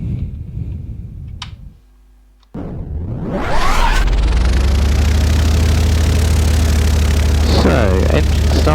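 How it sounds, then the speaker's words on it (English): A light aircraft piston engine cranks over with a brief lull, then catches and settles into a loud, steady, close-up idle drone. Faint talk is heard before the start. "we'll check that we're clear all around, which we are of course, and we'll get the engine started"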